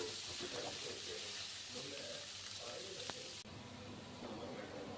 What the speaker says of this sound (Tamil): இப்போ ஆனியன், கருவேப்பிலை, காஞ்ச மிளகாய் இது எல்லாத்தையும் ஆட் பண்ணிடலாம். இது நல்லா கோல்டன் பிங்க் கலரில் வர வரைக்கும் ஃப்ரை பண்ணி எடுத்துடலாம்.